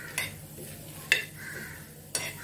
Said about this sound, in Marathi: चार 5 सुक्या मिरच्या घेतल्या, त्या पण भाजून घेते, थोडस परतून घेते।